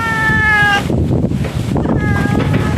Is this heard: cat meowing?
yes